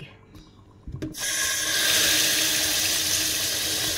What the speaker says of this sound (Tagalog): yung ice natin, lalagyan natin siya ng tubig